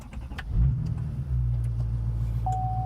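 A Chevrolet Silverado truck fires up with push-to-start, a quick crank catching into a low, steady idle that settles and holds, with a faint high chime appearing near the end.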